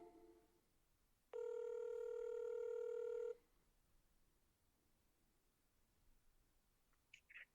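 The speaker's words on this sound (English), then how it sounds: "We'll dial out right now." Telephone dialing out to call a business: a short burst of tones, then a long steady tone lasting about two seconds in otherwise quiet room hiss, followed by faint small chirps.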